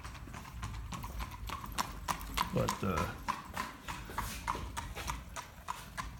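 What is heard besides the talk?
horse and buggy hooves clip-clopping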